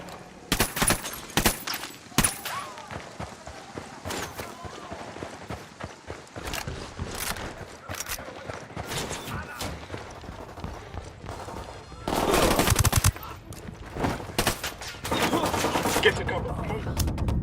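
Repeated bursts of gunfire crackle through a Ghost Recon Wildlands firefight, with scattered single shots and dense volleys that swell into heavy sustained fire, while voices shout over the action.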